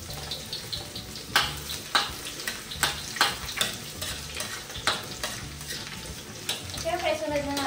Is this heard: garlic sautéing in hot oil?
yes